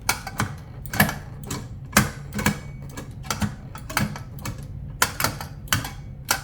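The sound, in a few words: metal H-pattern shifter clicking through gears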